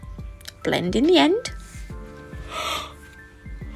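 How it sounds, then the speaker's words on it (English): A long, breathy yawn that wavers upward in pitch and then trails off into an exhale, with soft rhythmic music in the background. "Oh, yawning again."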